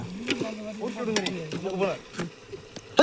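Masala sizzles and fries in hot oil for chicken biryani, cooked in a large pot; a steady close frying hiss sits under a speaking voice.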